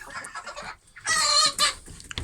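Hens and a rooster cluck and squawk excitedly inside an evening chicken coop, close and loud in bursts, with a quieter stretch midway before the agitated calling resumes.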